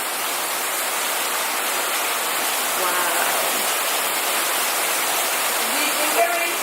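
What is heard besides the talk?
heavy pouring rain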